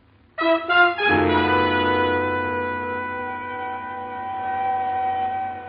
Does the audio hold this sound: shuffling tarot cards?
no